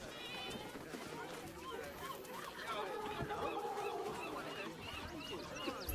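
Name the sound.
geese honking in video game Baldur's Gate 3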